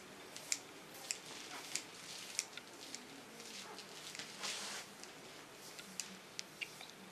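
Scissors snip hair close by in a quiet salon while an undercut is cut, giving faint crisp clicks at an irregular steady pace.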